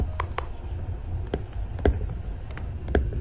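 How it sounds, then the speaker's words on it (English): A stylus scratching and tapping across a Paperlike screen film on an iPad Air 3 in short, soft strokes, sounding like pencil on paper, close up and quiet with no talking. "It really sounded like writing on a paper with a pencil."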